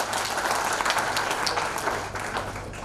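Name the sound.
audience clapping loudly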